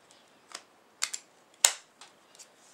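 A power cord being plugged into the power brick of a Dell Latitude C600 laptop, heard as a few small plastic clicks and knocks spaced across a quiet moment, close and fairly crisp.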